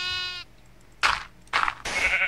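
Minecraft sheep bleats from the game, a drawn-out harmonic bleat at the start followed by three short, loud bursts close up, with no talking.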